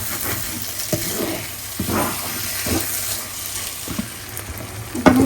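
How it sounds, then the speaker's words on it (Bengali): Shredded cooked chicken fries in a pan with onion, garlic and green chilli, giving a steady sizzle broken by several scraping stirs. "আমি একটু মুরগি মাংসের ঝুড়া ভাজি করতেছি"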